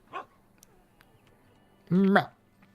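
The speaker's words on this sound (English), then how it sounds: "He's not just any dog." Dragon Age: Origins: a dog gives a short single yip, then after a pause a single louder bark, both fairly close against a quiet background.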